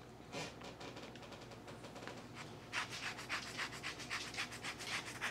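A lemon is zested on a microplane grater for a chocolate baklava filling. Quiet, close rasping strokes start slowly, then turn into quicker, more even scrapes partway through.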